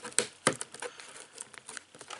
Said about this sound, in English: So let me take my scissors and cut the tape on the top here.